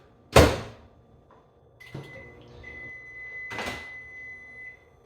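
A door thumps shut, then buttons tap and a microwave starts humming with a steady tone, another clunk landing midway through the run.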